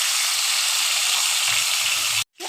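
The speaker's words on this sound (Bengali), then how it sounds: "এটা হাই ফ্লেমে রেখে 5 থেকে 6 মিনিট ভেজে নিব" Chicken pieces frying in a little oil over a high flame give a loud, steady, even sizzle that holds throughout, with a brief dropout to near silence near the end before it resumes.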